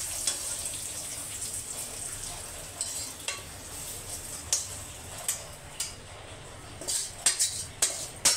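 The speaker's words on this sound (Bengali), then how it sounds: "আমি এটা মিক্সির জারে নিয়ে নিলাম।" Lightly fried spices and ingredients are scooped from a pan into a mixer grinder jar, giving a series of light scraping clinks and taps. They grow more frequent toward the end over a faint background hiss, with no talk.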